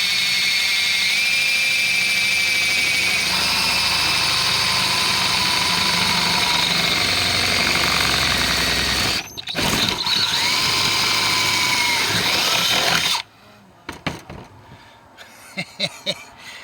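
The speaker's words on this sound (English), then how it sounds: "Now as I'm drilling this" A power drill whines loudly and steadily for several seconds while cutting a hole through a roof, briefly stops, revs again, then cuts out, leaving a few faint knocks.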